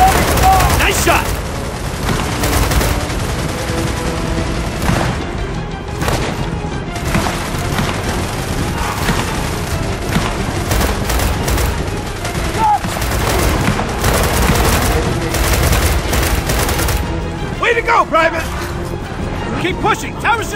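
Dense, continuous gunfire and explosions fill a Gears of War 4 battle scene, loud rapid volleys running throughout with soldiers shouting over the din.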